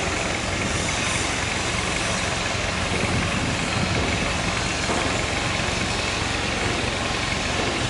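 A heavy crane engine drones steadily at close range in a boatyard, a constant low rumble with a mechanical whir that holds without pause.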